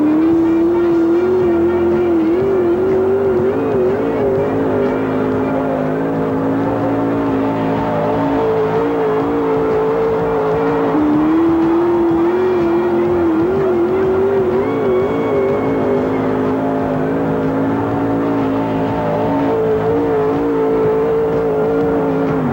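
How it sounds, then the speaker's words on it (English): Powerful truck and tractor pull engines roar continuously and loudly at a 1988 pulling competition, pitch rising and falling as they strain under heavy load, with no pauses throughout. "turn out to see the hottest truck and tractor pulls in the land, and to soak up more than just a little noise"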